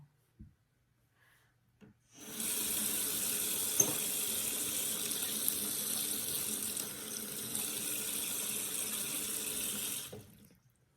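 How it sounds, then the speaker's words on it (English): Tap water runs from a faucet in a steady, hissing stream that starts abruptly after a couple of quiet seconds and cuts off near the end, close and moderately loud. "Okay, that's tap water."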